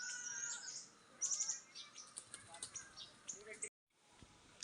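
Parrots feed on kafal berries in a forest, with several short chirps and calls heard up close among rustling, ending after a brief drop to silence.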